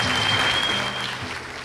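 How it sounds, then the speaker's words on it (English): Audience applause welcomes the performers Nora and JY at an arts café evening: dense, steady clapping from a small room crowd that holds loud, then tapers slightly, with a thin whistle riding over it. "So won't you bring on Nora and JY with a round of applause."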